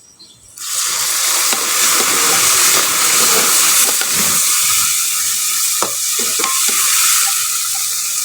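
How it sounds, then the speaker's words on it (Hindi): Water hits a hot pan of aloo pulao with a sudden loud hiss that settles into steady sizzling and bubbling, with a few clinks of a utensil. "पानी जो है वो ऐड करेंगे।"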